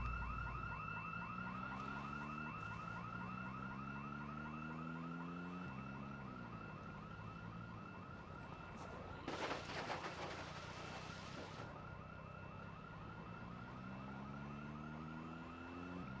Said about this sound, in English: Why is the alarm going off?